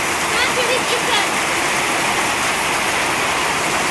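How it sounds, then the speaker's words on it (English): Heavy rain pours steadily beside a backyard pool, a dense continuous hiss of water with no pauses, loud and close throughout. "It's raining."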